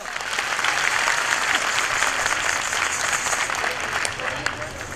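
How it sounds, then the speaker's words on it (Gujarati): A crowd at a Bhagavat katha religious discourse in Keshod, Junagadh claps in sustained, dense applause that fills the whole stretch and eases slightly toward the end. "હજી એકવાર તાળીઓ પાડો."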